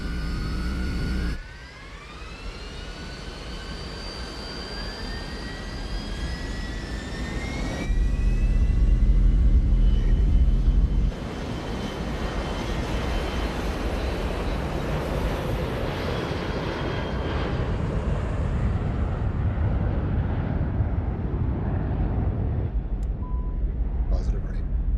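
Airliner jet engines spool up and roar through a takeoff roll, a steady loud rumble with a rising whine that swells midway, while cockpit voices speak over it.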